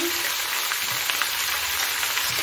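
Ground spices with salt and turmeric fry in a hot pan for a fish-head chechki, sizzling steadily and closely with fine crackling and occasional stirring, with no one speaking.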